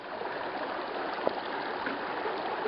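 A mountain creek flows with a steady, dense rushing of water, close and continuous without pause, and no voices over it.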